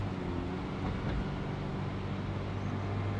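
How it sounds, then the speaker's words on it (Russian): A Mazda MX-5 roadster is engine braking while rolling slowly through city traffic, heard from inside as a low, steady drivetrain drone with road rumble and no talk. "Но вот опять тормозим двигателем."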